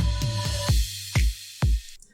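Reversed electronic fill in a progressive house drum pattern: several deep, dropping thuds over a sustained bright wash, with later hits that swell and stop abruptly before the sound cuts out.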